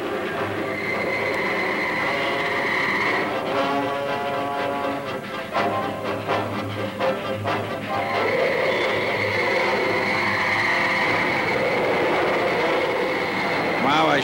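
A train passes in the old monster film The Black Scorpion, a loud, steady rumble of rolling rail cars with rhythmic clatter building and easing over about fourteen seconds, with voices talking over it.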